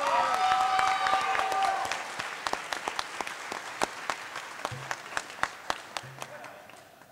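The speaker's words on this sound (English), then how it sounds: "Let's give our Harriman campus cohort one more round of applause" Applause rises from the audience at a college cording ceremony for graduates, fading into sparse, scattered claps as it thins out; a brief voice is heard near the start.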